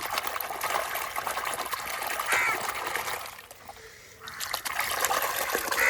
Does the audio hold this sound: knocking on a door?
no